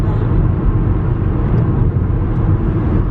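Steady in-car road rumble from a moving car, a constant low roar of tyres and engine with broadband noise holding level throughout, heard from inside the cabin with no voices.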